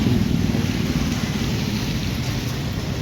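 Steady rain falls as a continuous broadband hiss, even and moderately loud throughout with no voices.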